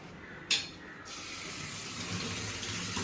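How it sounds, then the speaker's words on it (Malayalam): Tap water runs steadily into a sink while something is washed, after a brief sharp splash near the start, with the flow continuing close and fairly quiet. "ഇതിന് നമുക്കൊന്നുകൂടെ കഴുകിയെടുക്കാവേ"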